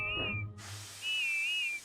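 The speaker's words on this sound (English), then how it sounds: "Then at last she heard Whiff's funny whistle." A toy train's whistle from a Thomas & Friends story, a thin wavering tone sounding twice, first short and then longer, each time over a soft hiss.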